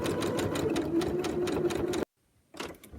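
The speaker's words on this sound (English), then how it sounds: "I was just sewing." Sewing machine stitches a hem seam on a surgical cap in a steady, close, rapid run for about two seconds, stops abruptly in silence, then starts a short burst again.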